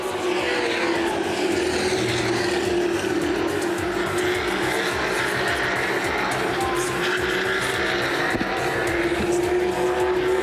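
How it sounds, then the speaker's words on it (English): CRA late model sportsman stock cars racing at Winchester Speedway, engines roaring in a steady, loud, continuous drone as the pack circles, with no break in the noise. "Tommy Cook again has a run at the 38 machine of KC Spillers"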